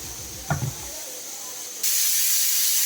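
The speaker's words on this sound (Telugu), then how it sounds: "విజిల్స్ కూడా వచ్చేస్తున్నాయి" A brief clatter, then a steady hiss of steam that suddenly grows louder and brighter, like a pressure cooker venting its whistle nearby.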